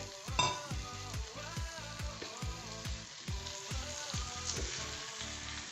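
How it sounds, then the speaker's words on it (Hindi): Potatoes fry in hot oil with a close, crackling sizzle, broken by a rapid regular series of scraping stir strokes, one sharp clatter near the start. "अब हम इसको थोड़ा सा गरम करेंगे, फ्लेम ऑन करेंगे और इसके अंदर हम ऐड कर देंगे हमारे ये वाले पोटैटोज़"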